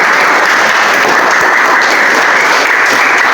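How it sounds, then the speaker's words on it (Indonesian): Classroom applause from students during a religious lesson in a school, loud, dense and continuous clapping close to the microphone, filling the whole stretch with no pauses. "Kasih tepuk tangan"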